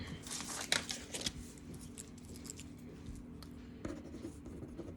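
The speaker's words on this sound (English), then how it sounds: "Let me write it down before I forget." Handwriting with a pen on paper: scratchy strokes and a few short bursts close to the microphone, with light paper rustling and no speech.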